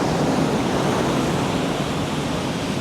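Heavy surf crashes against a rocky shoreline in General Nakar, Quezon, a dense, unbroken roar of water filling the whole moment at close range, with no voices.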